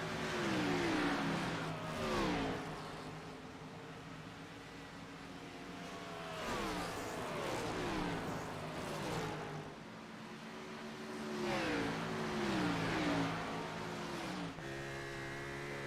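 Oval race cars in a sim racing league rise and fall through repeated loud engine revs as they pass, a droning layered whine sweeping up and down in pitch at steady intervals, with no talking.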